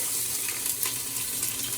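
Chopped green pepper, celery and onion drop into a pot of hot olive oil and give a loud, steady hiss and sizzle up close, with no talking.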